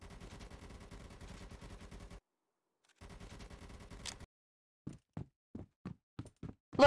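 Gunfire from the video game ZOZ: Final Hour: two sustained bursts of rapid automatic fire broken by a pause, followed by a series of separate single sharp shots.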